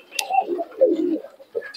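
Pigeons at a pigeon market in Murshidabad give soft, low, rolling coos close by, a few short phrases with a sharp click or flutter near the start.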